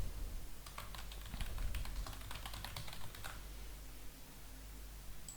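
Keywords typed on a computer keyboard in office software, a quick run of light clicking keystrokes at moderate distance, then fading to quiet room tone with no talk.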